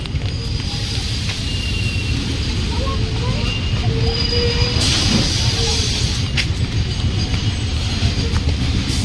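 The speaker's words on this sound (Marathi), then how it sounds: "लागली गाडी हा बघा आणि लोकल सारखी गाडी झाली आता" A moving local train rumbles steadily with broadband rail and wheel noise throughout, close and fairly loud, with occasional squeals and speech-like voices faintly mixed in.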